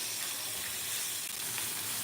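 Onions sizzle and fry steadily in a hot cast iron pan, a continuous close crackling hiss with no talk.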